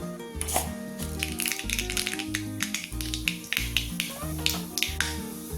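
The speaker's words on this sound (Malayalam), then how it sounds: "കടുക് പൊട്ടിക്കഴിയുമ്പോൾ" Mustard seeds spluttering in hot coconut oil in a pan, with a rapid scatter of sharp, close pops and crackles over a steady backing of music.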